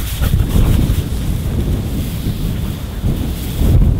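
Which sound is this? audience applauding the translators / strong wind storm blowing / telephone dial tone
strong wind storm blowing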